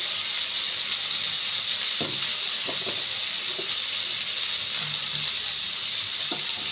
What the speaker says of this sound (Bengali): গরম জল করে রেখেছিলাম, এটা ঢেলে দিচ্ছি।